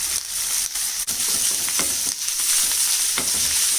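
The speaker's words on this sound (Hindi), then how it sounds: "इसमें हम चिकन डाल देते हैं।" Chicken mince hitting hot oil with translucent onions in a pan, a loud, steady close sizzle with intermittent stirring scrapes throughout.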